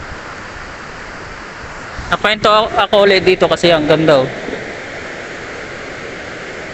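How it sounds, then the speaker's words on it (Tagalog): A strong river current flows through a clear mountain stream, producing a steady broadband rush throughout while someone speaks briefly over it in the middle. "Sarap maligo pero malakas yung agos ng tubig."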